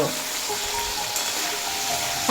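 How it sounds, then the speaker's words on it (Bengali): Sliced vegetables, beans and potato, fry with turmeric powder in a pan, giving a steady close sizzle under light stirring, with no one talking. "আর পরিমাণ মতো হলুদের গুঁড়ো দিয়ে খুব ভালোভাবে ভেজে নেব"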